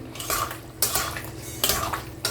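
A spoon scraping and clanking against a pan while stirring soybean, papaya and potato curry finished with ghee, in three rhythmic bursts of metallic scraping, close and fairly quiet, with no voices.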